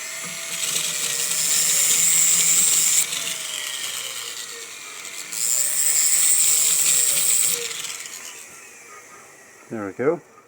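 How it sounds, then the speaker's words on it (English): A rotary tool with a cutting disc slices into a white gold ring in two sustained high-pitched whining bursts, each a few seconds long, with a pause between them, then two short quieter clicks at the end. "Let's go ahead and grab our cutting disc here."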